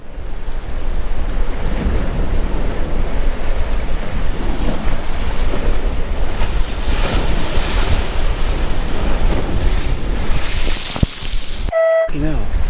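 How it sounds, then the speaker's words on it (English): Wind buffets the microphone in a constant loud rush on a blustery day on the Isle of Wight, mixed with the wash of surf, with voices faintly underneath. "It's a very blustery day today and it's a lot cooler than yesterday,"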